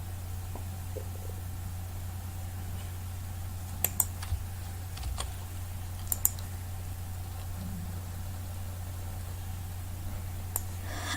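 A few sparse keystrokes on a computer keyboard as numbers are entered, sharp isolated clicks spread over several seconds against a steady low electrical hum and quiet room noise.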